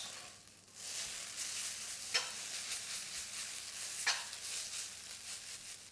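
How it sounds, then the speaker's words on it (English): Beef chow mein noodles stir-fried in a very hot wok give a steady, close hiss and sizzle, with two sharp clanks of a utensil against the metal a couple of seconds apart. "I've kind of turned the noodles over a few times now."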